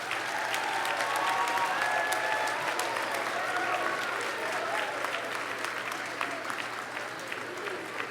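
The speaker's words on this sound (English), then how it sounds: "I would like you all to give him a round of applause." At a school choral festival, the audience gives a round of applause for a choir director, sustained clapping that tapers slightly toward the end, with some voices audible underneath.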